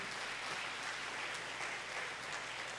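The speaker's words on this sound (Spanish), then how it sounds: "Dale un aplauso al Espíritu de Dios para saber que está conmigo" A church congregation claps during a service, a dense, steady wash of many hands sustained evenly throughout at moderate volume, with no voices standing out.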